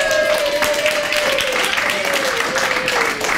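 An audience at a literary tribute reading event breaks into steady applause, a dense patter of many hands clapping at once and sustained for several seconds, with a voice speaking over it.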